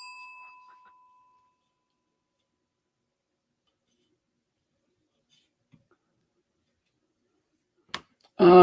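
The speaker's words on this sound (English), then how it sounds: "You get a bell." A single bright bell ding rings clearly at the start and decays over about a second, followed by long silence and a brief click before a voice begins at the end.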